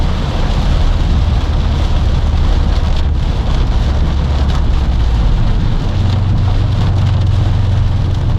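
Heavy rain pounds on a 21-year-old Subaru during a rainstorm, a dense, loud, continuous roar with a low engine rumble beneath it.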